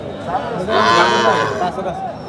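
A cow lets out a single long, low moo nearby, rising and fading over about a second, with a busy village cattle market in the background.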